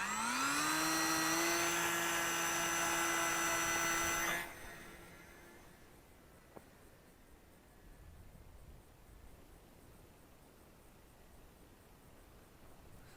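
An RC J3 Cub model plane flies with its electric motor at a steady high-pitched whine for about four seconds, then the throttle is cut and the motor drops away, leaving faint wind and outdoor background.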